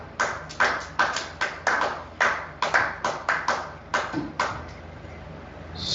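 A congregation at a church service claps in a brisk, uneven rhythm, about a dozen sharp claps spread across the stretch. The claps are fairly close and moderately loud, and a faint voice sits underneath.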